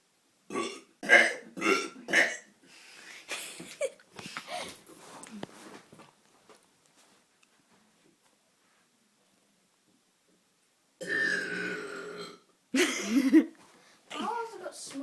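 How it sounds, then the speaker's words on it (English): Two young brothers burping, a string of loud close belches in quick succession with brief pauses, then a long quiet gap before more burps and a chuckle near the end. "do this thing that I always do with my burps"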